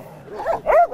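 Russian-European Laika dogs at a hunting-breed dog show give a short burst of close, loud yelping barks and whimpers, two rising calls within a second.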